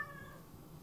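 A house cat gives a single short meow up close, quiet and brief, with no one speaking.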